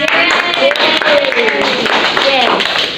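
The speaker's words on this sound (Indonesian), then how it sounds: "beri tepuk tangan buat semuanya" Students in a classroom clap together after a game in a teaching simulation, a busy patter of hands mixed with excited young voices chattering over it.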